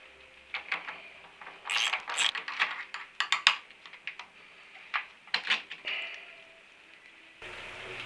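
A ratchet undoing the fuel tank centre bolt on a Triumph T120R motorcycle, giving quick bursts of close, crisp clicking strokes in uneven clusters, then a pause as the bolt is freed.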